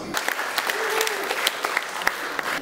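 Steady audience applause at a poetry slam, a dense crackle of many hands clapping throughout, with a voice briefly audible over it.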